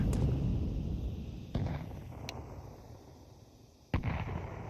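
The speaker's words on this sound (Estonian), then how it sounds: "Throwing a grenade." Grenade blasts in a competitive 5v5 tactical shooter match, a few sharp booming bursts with decaying rumble in between, heard alone without talk.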